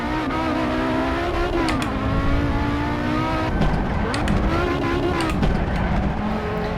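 Audi Quattro rally car engine in the Assetto Corsa racing game on the Targa Florio road course: a loud, continuous, buzzy engine note rises under acceleration, dips at gear changes and climbs again, with brief sharp transients.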